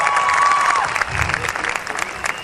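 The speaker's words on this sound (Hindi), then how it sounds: "बहुत तालियों से स्वागत कीजिए आप लोग" Audience applause at a live comedy show in a university hall, a steady wash of clapping that carries through the whole stretch at moderate loudness, with a faint tone and a bit of crowd noise underneath.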